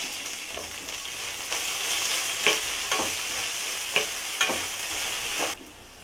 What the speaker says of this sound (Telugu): కొద్దిగా పుదీనా వేసి మగ్గించుకోవాలి